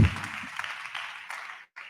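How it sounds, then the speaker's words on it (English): A brief wash of applause, fairly soft and steady, ending abruptly in a short silence before resuming. "Please keep clapping."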